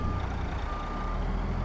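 A truck in American Truck Simulator reverses with a steady electronic backup beeper sounding over a continuous low diesel engine drone, loud and close throughout.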